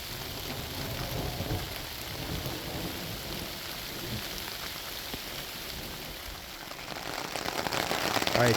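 Rain falling ever more heavily on a solo campsite near the Gilman Tunnels, a dense steady patter on surfaces that swells louder toward the end, heard alone without talk.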